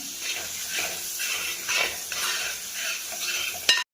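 Chopped tomatoes go into a hot pan with ginger-garlic paste and are stirred, giving a close, steady sizzle with scraping and clinking utensil sounds, ending in a sharp knock.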